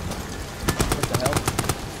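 Rapid bursts of automatic gunfire from the video game Amnesia: The Bunker crackle in a quick rattling sequence, moderately loud and sharp.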